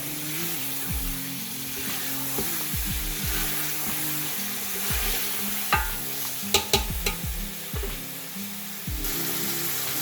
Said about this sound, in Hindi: अच्छा, ये गोश्त हमारा भुन रहा है।